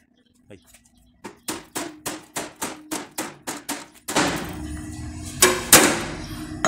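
Plasma-cut section of a Vespa scooter body being wrenched off: a run of about nine evenly spaced sharp metallic knocks, then a louder, sustained scraping and rattling burst of sheet metal close up.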